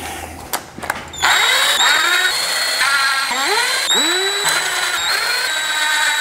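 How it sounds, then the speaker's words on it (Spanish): Power tool driving cylinder head bolts into a VW 2.0 TDI engine, a loud close whine that starts after a few clicks and rises and falls in pitch as each bolt runs down, continuing steadily to the end. "Llegamos con herramienta eléctrica"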